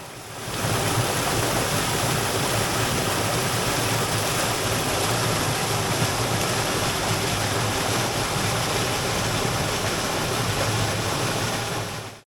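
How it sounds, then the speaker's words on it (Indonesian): Continuous rushing water of a mountain stream beside a hiking trail to Kawah Ratu via Pasir Reungit, a steady broadband wash that stays even and close for the whole stretch with no voices. "Hampir di sepanjang jalan kita akan ditemani suara gemericik air."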